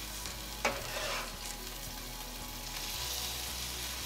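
A sablefish (black cod) fillet is laid flesh-side down in a pan at medium-high heat. It sets off a sharp initial hiss, then a steady, close sizzle and crackle of frying that continues alone with no talk.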